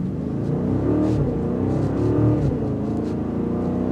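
2025 BMW X5 M60i accelerating, a deep loud engine roar building and swelling under hard throttle, heard close and continuous for a few seconds.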